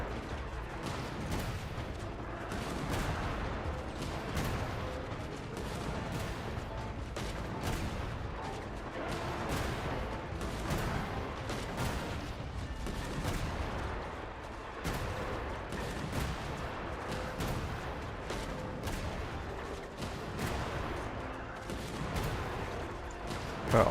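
Rapid gunfire hammers the floor in Genshin Impact, dense repeated blasts running without pause for the whole stretch, loud and close over a busy game backdrop.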